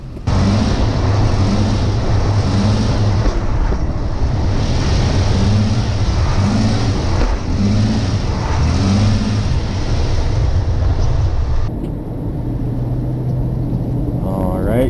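A Toyota FJ Cruiser with a steering fault rolls downhill, its engine and road rumble loud and steady at close range throughout, easing off near the end.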